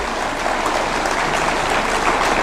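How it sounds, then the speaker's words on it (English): A standing audience applauds together at the Kenya Health Summit in the KICC hall in Nairobi, a dense, steady wash of clapping that stays loud and unbroken throughout. "I want to request you to stand up so that we can do a round of applause to all our counties."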